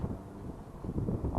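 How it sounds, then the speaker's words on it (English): Gusty wind buffets the microphone on open hilltop downs, a low, rumbling roar that swells and eases throughout, loud and close, with no voices. "I was hoping it wasn't going to be windy today."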